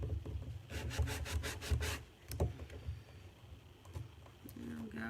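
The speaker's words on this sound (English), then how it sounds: "when I'm sanding like this, I have a tendency to stick my tongue out." Rhythmic scraping strokes of hand sanding with a sanding sponge, a quick series of rubs followed by slower, scattered passes, close and fairly quiet.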